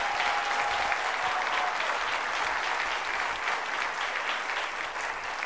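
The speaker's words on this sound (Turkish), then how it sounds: "Şimdi Levent Ülgen'e bir alkış alalım o zaman." A studio audience on the Turkish quiz show Kim Milyoner Olmak İster? breaks into steady, dense applause to welcome actor Levent Ülgen, sustained at an even level throughout with no voices over it.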